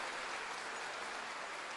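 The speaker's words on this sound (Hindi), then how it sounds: "तालियां आपकी ओर से जोरदार होती रहें।" Steady applause from an audience at a Jharkhand government benefit-distribution event in Lalpaniya, a dense wash of clapping that fills the whole short stretch evenly without any talk.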